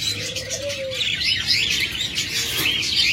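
A pair of Japanese budgerigars, offered for sale as a breeding pair, chirps steadily nearby in quick, twittering bursts with overlapping high notes and no speech.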